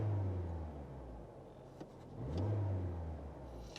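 A car engine revs as gas is applied during a bidirectional scan-tool test, giving a low steady idle that climbs in two swelling revs with a brief tick between them, heard up close without talk.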